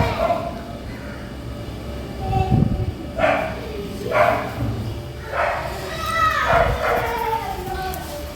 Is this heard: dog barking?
yes